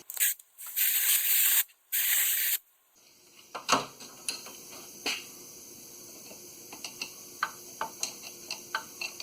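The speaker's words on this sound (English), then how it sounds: "I'm going to blow off some of the grease" Compressed air blasts grease off the steering parts of a 1997 Chevy 1500 Silverado 4X4, with two long loud hissing bursts near the start, followed by quieter scattered ticks and clicks.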